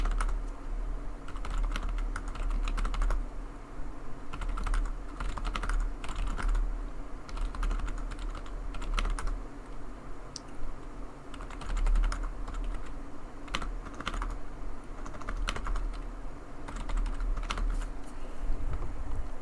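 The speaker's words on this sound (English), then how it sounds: "Loud keyboard sounds, cause why not?" Loud computer keyboard typing, a dense, steady run of close clicky keystrokes with occasional sharper bursts, continuing alone without any talk.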